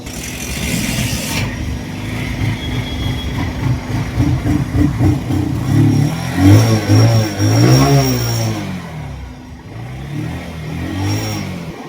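A motorbike engine pulls away at the start of a ride from Kolkata toward Lalgola, revving up and down through several surging bursts before settling into a steadier running drone, loud and close with no talking.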